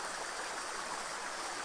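A small stream flowing over stones near the Argentine border, a steady, close, even rushing and gurgling with no pauses or voices.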